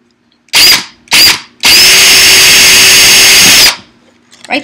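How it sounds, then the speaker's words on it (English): A powerful electric drill bores through wood: two short bursts of whirring, then one long sustained loud drilling run, close up. "This is my dad drilling because this is a really powerful drill."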